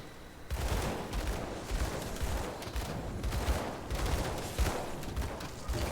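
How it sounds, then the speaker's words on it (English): Arcane bomb explosions in the video game Grim Dawn burst in a rapid, dense barrage of overlapping blasts that keep going without a break. "You can see all of these explosions. That multicolored thing going on under his feet, that's us. Those are the arcane bombs that are just going left and right."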